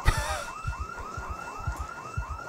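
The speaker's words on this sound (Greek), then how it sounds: "Πηγαίνετε προς τα εκεί που ακούγεται ο συναγερμός." A car alarm wails in Project Zomboid, a repeating rising tone pulsing steadily about twice per second over low thumping beats, fairly loud and alone with no talk.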